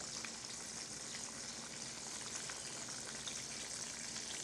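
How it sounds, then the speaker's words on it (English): Steady, dense sizzling of bread frying in hot oil in a pan, a continuous crackling hiss with small pops, close and even throughout. "Ain't doing nothing but frying bread."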